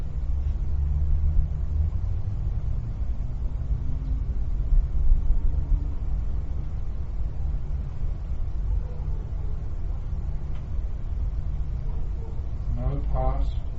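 Steady low rumble of road traffic passing outside a quiet meditation room, a continuous distant wash of car noise with no clear individual vehicles.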